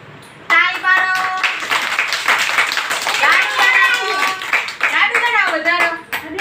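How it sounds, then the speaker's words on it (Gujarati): Children clap their hands during an action song at an Indian anganwadi preschool, steady claps mixed with overlapping chanting voices and a teacher singing along throughout. "ખભા ઉપર, ઘૂંટણ ઉપર, તાળી પાડો."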